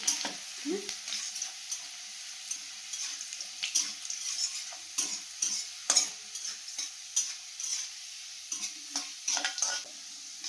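Garlic fries in a hot pan for hyacinth bean chutney, a steady sizzle broken by repeated clattering stirs and scrapes over about ten seconds, close and fairly loud with no voices.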